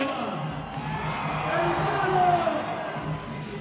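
A Mexican crowd at a Red Bull X-Fighters freestyle motocross final makes a steady, distant roar of cheering, continuous and broad with no breaks, while a commentator talks over it.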